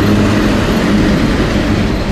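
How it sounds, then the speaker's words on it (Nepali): A freight train crosses at night near a forest, making a loud, dense, steady rumble and roar that fills the whole moment from close range, with no voices over it. "रातिको 7 बजे मालगाडी क्रसिङ हुँदैछ, हामी पर्खिरहेको छौँ।"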